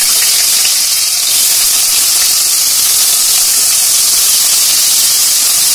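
Potatoes frying in hot mustard oil with bay leaf, dried chilli and whole garam masala give a loud, constant close hiss of steam and spitting oil throughout.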